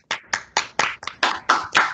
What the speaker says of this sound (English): let's give him a big hand by actually clapping in front of our screens.